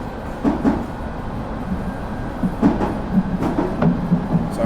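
A London Underground C stock train runs steadily in Train Simulator Classic on the Metropolitan Line, giving a continuous rumble with repeated wheel clacks over rail joints and no talk.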